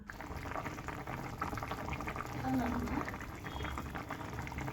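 A covered pot of salted potatoes simmers on a steady rolling boil, bubbling continuously at moderate volume, with some faint background noise and an occasional brief tone.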